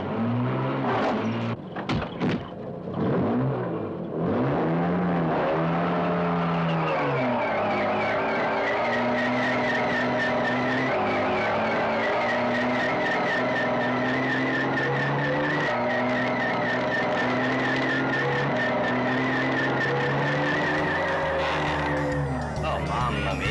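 Jaguar E-Type engine turning over, catching and revving, then pulling away with a sustained rising drone and some tire noise, close and loud, with voices calling out early on.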